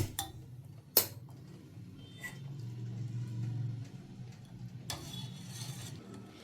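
Sugar syrup heats in a small pot on a stove for sakkare achchu sweets. It gives a soft, low bubbling that builds in the middle, with a few sharp metallic clinks of a utensil. It is quiet overall and no one speaks.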